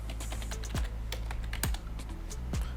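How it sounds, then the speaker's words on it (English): Rapid clacking keystrokes on a computer keyboard, close and steady with a few heavier key thumps, no voices. "Let me just type it out."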